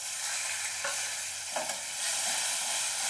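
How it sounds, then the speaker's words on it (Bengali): Green chili and tomato fried with asafoetida in a pan, a bright continuous sizzle with a few scraping stirs from a utensil, close and moderately loud, with no talking. "হিং দিয়ে নাড়াচাড়া করে এই যে কাঁচা লঙ্কা আর একটা টমেটো"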